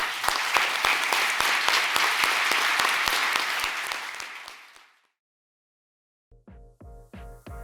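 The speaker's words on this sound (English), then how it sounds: "Huge round of applause for everyone." Audience applause at a beverage startup competition semifinal, a dense, steady burst of many hands clapping that fades out over about five seconds, followed after a short silence by a few separate clipped bursts of sound.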